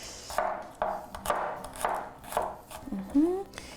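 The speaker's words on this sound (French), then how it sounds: "Puis, vous les hacher finement." About five garlic cloves are finely chopped with a knife on a board: a close series of evenly spaced, crisp taps roughly twice a second, with a short vocal sound at the end.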